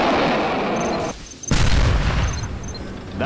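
Artillery bombardment in Command & Conquer Generals Zero Hour, with heavy booming impacts, a brief lull, then a loud blast and rolling rumble, along with sharper distant shots.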